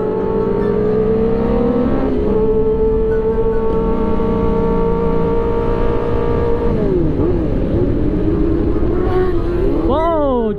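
Kawasaki Ninja ZX10R and ZX6R sport bikes drag race, loud engines revving and shifting through rising gear whines, with a rider speaking over the continuous roar.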